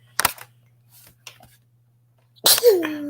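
A single sharp sneeze near the start, followed by a few faint noises, then a short burst of a voice toward the end.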